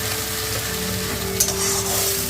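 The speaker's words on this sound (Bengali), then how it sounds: "এরপরে একটু আদা একটু দিচ্ছি, রসুন বাটা দিচ্ছি, পরিমাণ মতন দেবো আর নাড়াচাড়া করে নিলাম।" Ginger and garlic paste frying in a pan for a fish curry with curd, stirred continuously: a dense, loud, close sizzle with soft scraping, alone and without talking.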